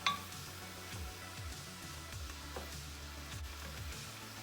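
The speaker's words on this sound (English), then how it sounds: "we're gonna saute these onions until they're nice and soft" Onions sauté in a pan for carrot ginger soup, a quiet, steady sizzle with occasional soft clinks of utensil against the pan, faint and close, with no talking.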